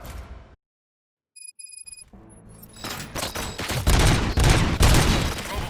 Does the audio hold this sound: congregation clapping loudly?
no